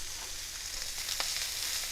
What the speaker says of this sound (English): I can hear that corn sizzling away.